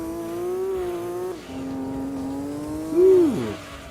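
Nissan Silvia race car engine in Gran Turismo 2, a droning, steady tone that holds pitch, dips after a shift, then briefly swells and falls away.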